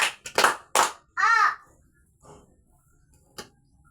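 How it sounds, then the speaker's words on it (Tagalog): A quick burst of three sharp handclaps of applause, then a brief sung or called-out voice and a faint later clap in an otherwise quiet classroom. "Palakpakan natin si Sir Arnie ng tatlong palakpak"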